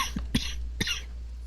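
A few short, close coughs, two or three sharp bursts in quick succession, sound against a low steady background hum.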